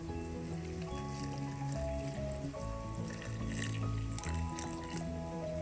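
Water trickles and pours into a mixer grinder jar over spices, a steady bubbling fill with rising gurgling tones, close and continuous.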